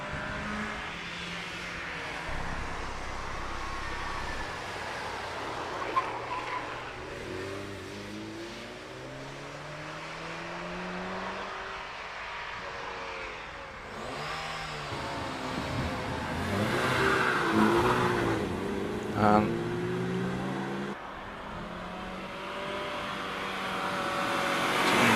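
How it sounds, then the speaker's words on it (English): A Porsche 968 launches off the line at the Prescott hill climb, its engine revving hard and climbing through gear changes. It is heard from some distance at moderate loudness, with no talking. "Jonathan Martin out there now, just getting off the line in his Porsche 968 and up to the line"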